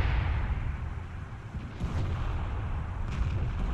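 A WZ-120 tank cannon shot in World of Tanks, a loud, heavy boom within a continuous dense rumble of battle noise lasting the whole stretch.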